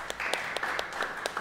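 A church congregation applauds during a worship service, a soft, fairly distant patter of many hands with a few sharper claps standing out.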